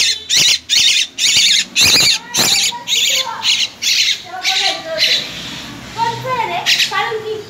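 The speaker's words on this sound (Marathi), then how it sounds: "हाँ मैना है, मैना" An Indian myna fledgling rescued after falling from its nest squawks loudly in a rapid series of harsh, close calls that slowly get spaced further apart, with a voice faintly in the background.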